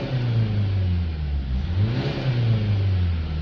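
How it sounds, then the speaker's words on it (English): A Nissan Qashqai diesel engine with a particulate filter fault revved sharply up and down, with the pitch climbing and falling in a smooth swell before settling, heard close and loud from inside the car. "We're just going to give it a few sharp revs up and down like that for a minute."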